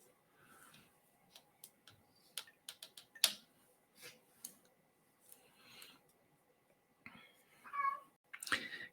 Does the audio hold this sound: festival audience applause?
no